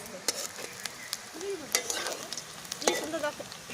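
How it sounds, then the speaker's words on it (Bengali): Pieces of rohu fish fry in hot oil, giving a continuous soft sizzle. Sharp scraping clicks from stirring break in now and then, and there is no talk. "এই দেখুন বন্ধুরা, কি সুন্দর লাল লাল করে ভেজে দিচ্ছি"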